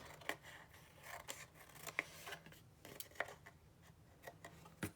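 Scissors trim the edge of a postcard photo in a series of crisp, quiet snips, about a dozen irregularly spaced cuts close by in an otherwise quiet room, with no talking.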